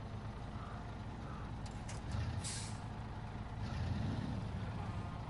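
A truck's air brakes in a video game: a soft hiss of released air over a steady low engine rumble, faint and in the background, with no talk.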